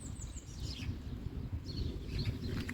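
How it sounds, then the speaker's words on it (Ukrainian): Small birds chirp and tweet in a Dutch village garden in spring, brief high calls scattered over a low rumbling background. "Пташки співають,"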